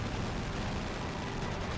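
Continuous WWII strategy-game combat in Company of Heroes 2, with dense gunfire and rumbling battle noise at a steady loud level and no clear voice.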